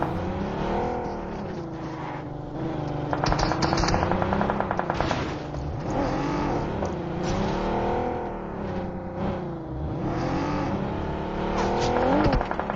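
Vehicle engine from the BGMI battle royale game, a steady, loud drone with wavering pitch as it drives, overlaid with rapid bursts of gunfire and a few tire squeals, continuous throughout without talk.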